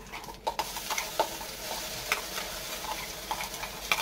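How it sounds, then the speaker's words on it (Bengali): Chickpea greens paste with garlic, chilli and black cumin frying in oil, a soft steady sizzle with occasional stirring scrapes and ticks, quiet and without talk. "শাকের পেস্টটা দিয়ে দিলাম। দেখে নেড়েছিলাম ভালো করে, ভাজতে হবে ভালো করে"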